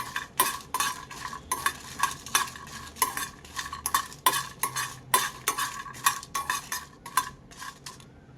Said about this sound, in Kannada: ಈಗ ಇದಕ್ಕೆ ನಾನು ಗೋಡಂಬಿಯನ್ನು ಸಹ ಹಾಕ್ಕೊಂಡು ಲೈಟಾಗಿ ಫ್ರೈ ಮಾಡ್ಕೋತೀನಿ